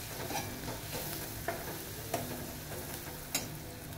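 Bitter gourd with red chili powder and homemade masala is stirred in a kadhai, giving a soft steady sizzle with a few distinct scrapes and clinks of the spoon against the pan.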